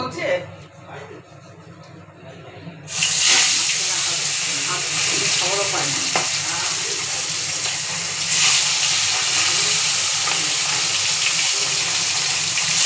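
After a quieter start with some background talk, loud continuous sizzling of fish frying in hot oil fills the rest, steady and crackling.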